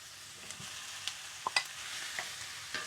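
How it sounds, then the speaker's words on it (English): Pork sears in a pan with softened onions, a quiet steady sizzle with a few soft clinks and stirring scrapes, close by. "just start brown the outside a little bit, searing it a little bit"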